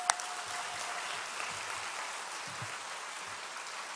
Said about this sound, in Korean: 교수님 박수로 모시겠습니다